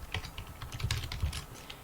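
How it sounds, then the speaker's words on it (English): Quick, light keystrokes on a computer keyboard as a sudo systemctl restart command is entered, a close, rapid patter of clicks for a couple of seconds. "just type in sudo systemctl restart"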